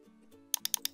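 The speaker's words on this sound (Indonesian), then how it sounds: "Dan ini juga saya buat F4 pada keyboard." Four quick, crisp key taps on a computer keyboard, pressing the F4 key while working in an Excel spreadsheet, come close and clear in a short uneven burst over faint background murmur.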